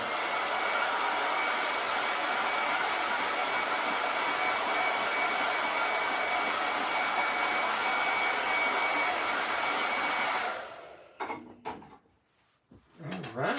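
Hair dryer blowing steadily up close to dry paste on a silkscreen mesh stencil, a loud continuous whoosh that cuts off near the end, leaving faint handling noises.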